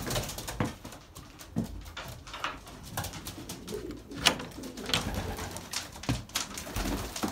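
Pigeons coo inside a breeding loft, several soft repeated coos mixed with wing shuffles and small thumps, close and fairly quiet with no talking.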